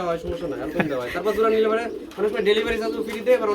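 Pigeons coo steadily and close by at a rural pigeon market in Dhamrai, Dhaka, with breeding pairs kept for sale, the throaty rolling calls repeating through the clip amid crowd murmur.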